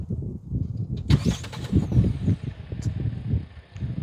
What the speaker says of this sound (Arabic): مميزات العربيه برضو ان هي بتدور من الريموت.